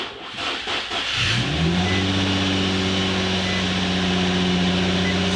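An Infiniti car, repaired after flood damage, cranks briefly and then its engine catches and settles into a steady, fairly loud idle hum. No one speaks.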